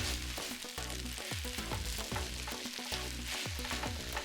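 Grated potatoes stirred with butter in a hot pan for a crispy rösti, giving a steady loud sizzle with repeated scraping and stirring knocks throughout.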